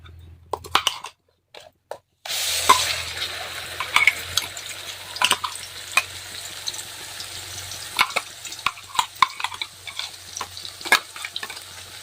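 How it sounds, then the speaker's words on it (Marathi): Homemade black masala for a Khandeshi dubukvade curry hits hot oil in a pan and is stirred, giving a steady broadband sizzle with repeated scraping and clicking strokes after a brief quiet start. No one speaks. "तेल छान असं गरम झालेलं आहे आता आपण जो मसाला तयार केलेला आहे तो टाकायचा आहे"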